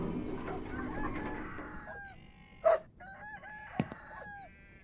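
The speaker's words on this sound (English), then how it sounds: "And I hear chickens again." Chickens in a video game cluck and squawk nearby in short, rising calls, with a rooster-like crow among them and a couple of sharp knocks.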